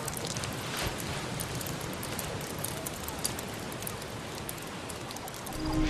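Steady rain falls and patters on surfaces throughout, a dense broadband hiss with scattered drop ticks, slightly swelling at the very end.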